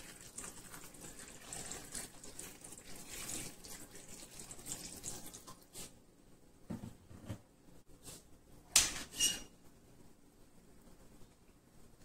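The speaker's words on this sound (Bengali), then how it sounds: "পানি দিয়ে দেব।" Water running and splashing into a pot of red lentils and thinly sliced bottle gourd, a steady pour for several seconds, then a few short gushes.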